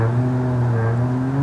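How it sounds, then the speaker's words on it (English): Motorcycle passing at night in woods near Goatman's Bridge, a steady close engine drone with strong low harmonic bands held throughout, no voices. "It's a motorcycle."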